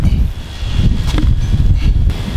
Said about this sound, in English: I feel like it's super windy out right now